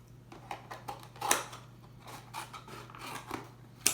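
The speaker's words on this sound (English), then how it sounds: "use the scissors to cut off the rest" Several crisp scissor snips cutting through a stiff plastic container, irregular and close, with quiet handling rustles between cuts.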